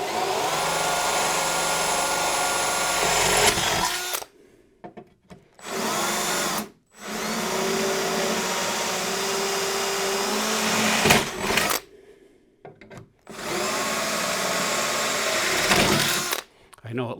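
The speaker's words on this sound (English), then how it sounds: "And I'm just drilling into plastic now." A power drill bores holes into gray plastic in loud, sustained high-pitched bursts that start and stop several times, with short quiet gaps between runs.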